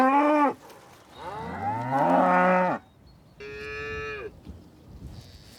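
Cattle moo loudly in a spring meadow during outdoor calving, with several long, drawn-out calls in a row, one strong bellow and then a shorter, steadier moo against a quiet field.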